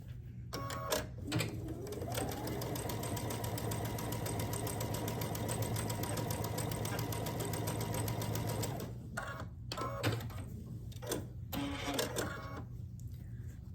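A sewing machine stitches a quilt block seam in one sustained run of rapid, even needle chatter lasting several seconds, framed by short start-and-stop bursts and clicks before and after.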